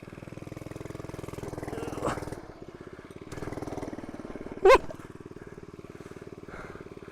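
FRP GMB100 mini bike engine running outdoors during a wheelie attempt, a steady buzzing drone that surges in two long revs, with a sharp loud knock or clank near the end.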